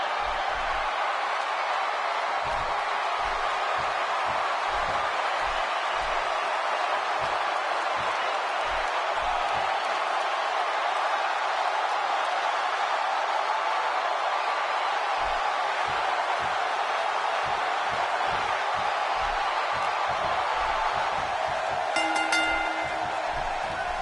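Arena crowd at WWE SummerSlam in a wrestling video game, a constant loud wash of cheering and crowd noise with low rhythmic thumps beneath, steady from start to finish.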